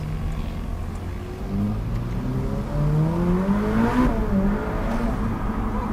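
A Ferrari F8 Tributo accelerates hard, its engine note climbing steadily through the revs in a loud, close pull, with a brief shift-like dip before rising again and no talk over it.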